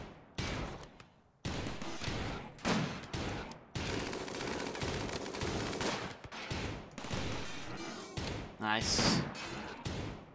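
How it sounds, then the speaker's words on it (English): Centipede minigun fire in RimWorld, heard as rapid bursts of gunfire in several separate volleys with thuds between them, while someone talks briefly. "minigun centipedes can deal a hell of a lot of damage in the right circumstance"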